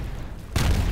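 A building explodes in an HTC Vive VR firefighting and rescue game: a sudden loud, close blast hits about halfway through and leaves a heavy rumbling roar after a quieter stretch.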